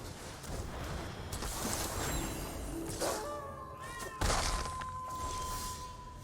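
A pet cat meows a few times over loud, steady background noise, with one longer drawn-out meow near the middle of the clip.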